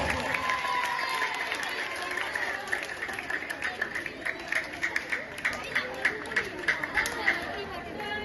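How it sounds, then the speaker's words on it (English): A school audience applauds at a prize ceremony for house teams, the clapping growing into a brisk, rhythmic burst beneath steady crowd chatter and hubbub. "Give a loud applause."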